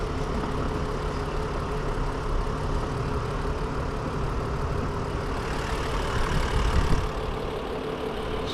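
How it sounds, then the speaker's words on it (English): A Range Rover V6 engine idles with the hood open, giving a steady low rumble that stays even and close, with a slight swell near the end. "The V6 just chugging along there."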